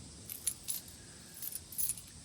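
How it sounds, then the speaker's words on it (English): Keys on an everyday-carry keychain with a small Olight flashlight and an Olight pill bottle jangle in several quick, light metallic bursts, close and fairly quiet, with no talking. "So that's it for the keys."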